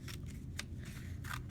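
Scissors snipping through paper while cutting collage pieces, a few short crisp cuts in an uneven rhythm, close and fairly quiet over a steady low background hum.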